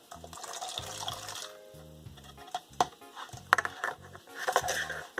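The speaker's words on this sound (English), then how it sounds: "So first we're going to fill a disposable cup with 25 milliliters of warm water." Warm water is poured into a disposable cup, a faint, intermittent trickle with soft splashes and a few small knocks and clicks, all quiet and close.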